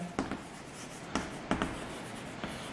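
Chalk or a marker writes on a board during a physics lesson. Short scratchy strokes come in small irregular bursts, close and fairly clear, over a steady background hiss, with no speech.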